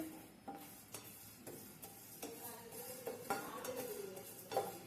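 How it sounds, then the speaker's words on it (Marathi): Samosa filling roasting in a pan, a spoon stirring and scraping against the metal in irregular strokes, with soft clinks and a faint sizzle underneath, close and moderately quiet. "ह्याला छान असं आपण भुनून घेऊया"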